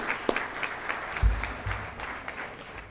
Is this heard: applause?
yes